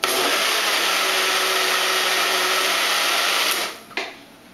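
A NutriBullet-style blender whirs steadily as it mixes a smoothie, a loud continuous motor roar that cuts off near the end with a brief clunk.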